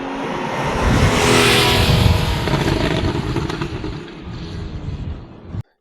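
A Porsche 911 GTS with a normally aspirated 3.8-litre flat-six revs hard at a Silverstone track day, a loud, sustained engine roar that swells and holds before easing off and cutting out abruptly.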